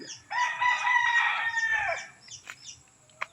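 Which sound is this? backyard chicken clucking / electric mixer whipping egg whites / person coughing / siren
backyard chicken clucking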